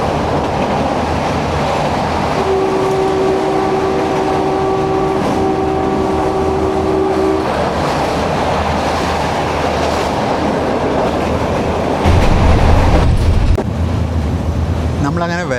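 A meter gauge train rolls through Gir Forest on the Junagadh to Veraval line, with loud steady rumbling and rail clatter throughout, a sustained horn tone partway through, and a heavier burst of rumble near the end.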